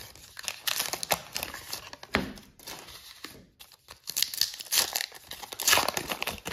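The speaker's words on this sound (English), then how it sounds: "Since these cards aren't sticking together or anything, I'm going to just super rip them." 1990-1991 Upper Deck High Series hockey card packs are torn open, giving loud close crinkling and ripping of foil wrappers in quick bursts with brief pauses.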